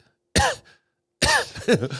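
Two bursts of dry, raspy coughing imitated by a voice, separated by a short pause, the second a quick string of hacking coughs.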